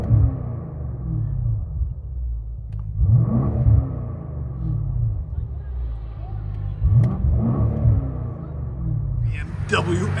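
Straight-piped 2019 BMW X5 M50i with a 4.4-litre V8, revving in bursts that swell and fall back to a deep idling rumble, heard fairly close with no talk.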